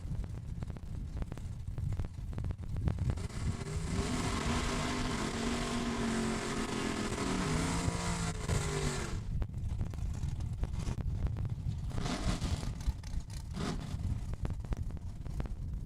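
Bracket racing cars roar down the drag strip at Saskatchewan International Raceway, a loud sustained engine howl with rising pitch that fades out, then another burst of engine noise against constant wind and crowd-level background.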